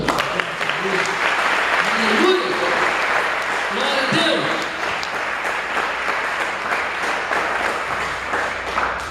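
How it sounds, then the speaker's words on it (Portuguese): A church congregation applauds steadily throughout, a dense wash of clapping filling the room, while a preacher's voice speaks over it in the middle. "Você podia aplaudir o Senhor?"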